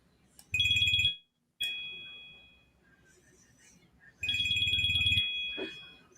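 A phone ringtone goes off during a live fan show, loud and near, in two bursts of tonal chiming with sustained bright notes and a short gap between them, the ring decaying between the bursts, with faint room noise and no talk over it.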